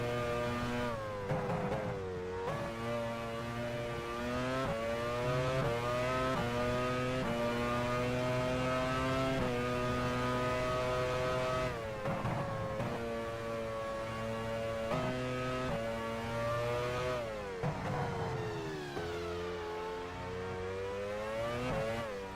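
A Formula 1 car engine in the F1 Challenge 99-02 racing game on an out lap, a steady high-pitched whine rising and falling through repeated gear changes and revs, quiet and alone.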